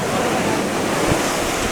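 Ocean waves break on a Pacific beach in Costa Rica's Montezuma area, making a loud, continuous roar of surf mixed with wind noise on the microphone.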